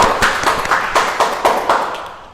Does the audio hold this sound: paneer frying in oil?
no